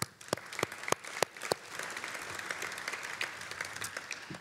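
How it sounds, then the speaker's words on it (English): Audience applause at a medical entrepreneurs' event, a scattered round of clapping that starts with loud single claps and settles into steady, moderate applause. "give all of yourselves a round of applause"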